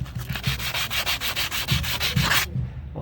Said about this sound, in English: next thing I want to do is go around it with some sandpaper.